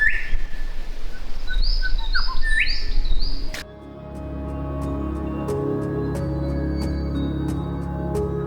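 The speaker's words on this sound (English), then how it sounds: "In this forest it's then more about bird life, bird song" Birds chirp and sing in a forest along a gently sloping trail with small creeks, bright calls clustered early over a steady outdoor hiss, then sparser tweets continuing above a low, even background murmur.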